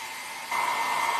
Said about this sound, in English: When I turn on the hair dryer